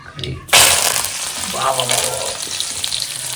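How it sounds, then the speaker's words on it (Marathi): A loud, steady sizzle of onion, curry leaves and garlic frying in hot oil in a heated wok bursts in suddenly and crackles on continuously up close. "कांदा म्हणतोय कढीपत्ता आणि लसणीची फोडणी"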